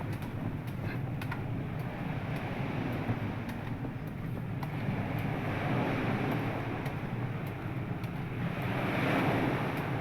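Sea surf and wind by the shore in Kuwait: a steady, broad roar of waves with gusty wind buffeting the microphone, continuous and fairly close, with no voices.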